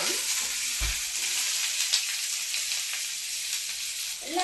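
Onions and garlic frying in a hot pan for a spiced masala, a continuous close sizzle with a few low knocks and scraping at the start and end.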